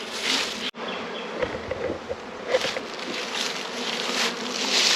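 Honey bees swarm around an open beehive, a dense, continuous buzzing hum close by that swells and fades slightly as the insects move, with no voices.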